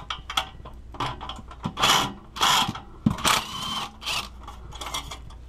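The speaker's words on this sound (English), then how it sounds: "first thing we got to do, obviously, is loosen up all these damn clamps" Close, repeated ratchet clicks in short bursts as car exhaust pipe clamps are loosened, with metallic tool rattles between strokes and no talk.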